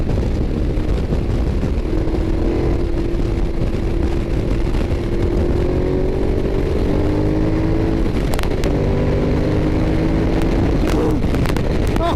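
A 2012 Ducati Diavel engine pulls hard in fifth gear, a loud continuous drone climbing steadily in pitch under heavy wind rush, with a brief clatter near the end.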